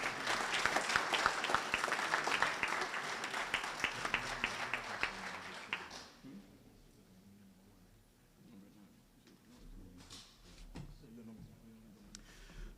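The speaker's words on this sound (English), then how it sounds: "Give us a round of applause." Audience at a Prince Hall Grand Lodge scholarship and awards ceremony gives a round of applause, sustained clapping with distinct individual claps for about six seconds, then quieter room sound and speech.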